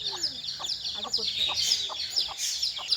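Small country chicken chicks cheep and peep busily in a yard while a hen clucks close by, with a person speaking faintly in the background.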